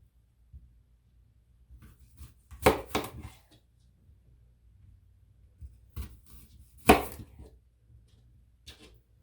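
A knife cutting through apples on a board, two distinct crunching cuts a few seconds apart with small scraping clicks between, quiet and close.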